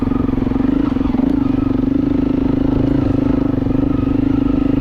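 An adventure motorcycle's engine chugs steadily and loudly with a low, even, tractor-like drone while riding off-road at the Tansky Off-Road Vehicle Riding Area, with light clatter and no break throughout.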